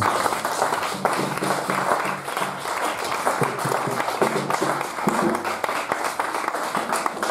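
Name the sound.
congregation applauding / acclaiming the Lord in church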